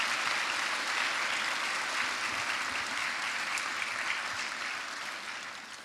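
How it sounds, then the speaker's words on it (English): Studio audience giving steady, sustained applause for a long-distance arm-only swimmer, dense clapping that fades slightly at the end. "round of applause for that"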